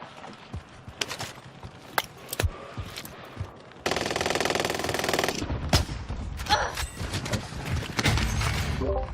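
Video game gunfire during a multiplayer match: sharp shots and rapid automatic bursts, with a dense sustained volley in the middle, loud and close throughout.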